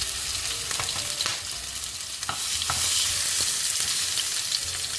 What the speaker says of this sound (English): Now we'll put in the entrecote, and that's what we want to hear. That's a nice little sizzle.